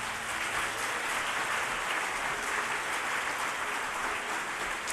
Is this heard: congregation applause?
yes